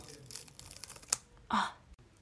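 Special effects makeup peeled off a face, faint sticky tearing and crinkling in short rips, close and quiet, with a sharp snap near the end.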